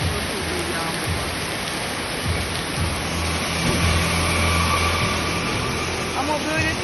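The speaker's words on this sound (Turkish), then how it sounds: "Görüyor musunuz nasıl bir yağmur var?" A heavy downpour in Bali roars as a loud, continuous wash of rain, with a faint low engine rumble passing underneath partway through.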